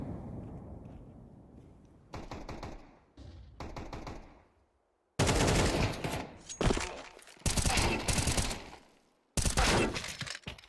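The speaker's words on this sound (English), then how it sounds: "Syndrome gets a really nice shot off on Coach" Gunfire in the Counter-Strike 2 video game comes in sharp bursts of rapid shots separated by brief silences, loud and close with no talk over it.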